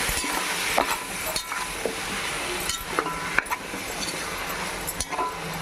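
Pipes biryani masala is stirred in a pot, with a spoon scraping and knocking against the metal at irregular intervals over a low frying sizzle, close and without talk.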